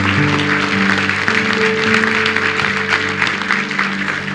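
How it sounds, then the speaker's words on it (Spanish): A church congregation applauds in a dense, sustained clatter of clapping layered over steady keyboard or organ chords. "Vamos a darle un fuerte aplauso"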